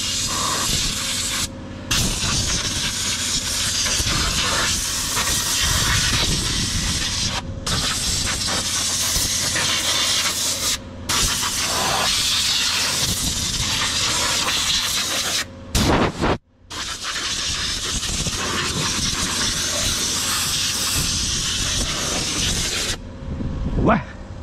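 Compressed air hisses loudly in sharp, sustained bursts as it blows out the engine bay of a Suzuki Vitara, with brief gaps between blasts.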